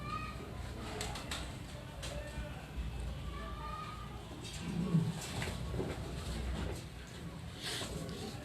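Deoband breed pigeons coo softly in a loft, low throaty calls rising now and then over faint background chatter and children's voices.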